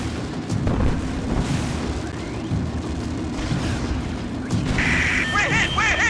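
An aircraft under fire in a video game takes a hit with a heavy rumbling explosion amid continuous loud engine and combat noise, with bursts of impact and a shrill alarm tone rising near the end.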